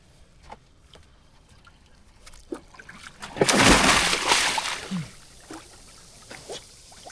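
Water splashes and sloshes loudly for a couple of seconds midway as a person steps into the sea to check a boat's mooring line in Mumbai, with quieter drips and trickles before and after.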